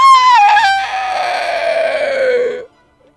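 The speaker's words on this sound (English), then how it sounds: "it appears that a much larger beast on its turn arrives. Oh no! With a hellishly loud screech." A huge Kargarok beast lets out a single loud, drawn-out screech that starts harsh and wavering, then slides downward in pitch for about two and a half seconds before cutting off into silence; it sounds much like a rooster-style call.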